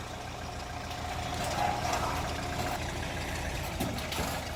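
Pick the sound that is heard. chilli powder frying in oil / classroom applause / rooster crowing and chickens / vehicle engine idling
vehicle engine idling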